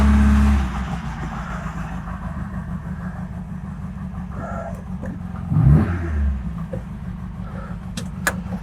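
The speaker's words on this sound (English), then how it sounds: "So the last thing to do is to run the engine and just make sure it's not leaking." An MGB sports car's engine idles in a garage after an oil change, a steady low rumble throughout, with a brief swell in revs partway through and a few faint clicks near the end.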